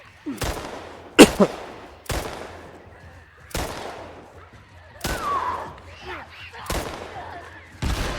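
Bursts of gunfire in the video game The Last of Us ring out in several sharp volleys spread across the clip, with a voice talking faintly in between.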